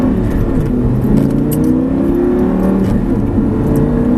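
An Audi R8 accelerating hard on a track behind a black Ferrari 458, a loud continuous engine drone that rises in pitch as it climbs through the gears.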